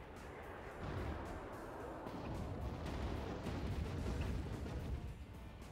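Artillery pounding a refinery in the real-time strategy game Act of Aggression: a continuous rumbling barrage of dull, overlapping booms and blasts at moderate distance, heavy in the low end, with no speech.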